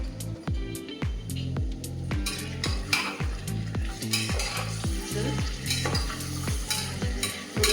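Chopped tomato with half a spoon of turmeric sautéing in a pan. A steady sizzle runs under rapid, rhythmic scraping strokes of a spatula that give repeated squeaky, falling tones throughout.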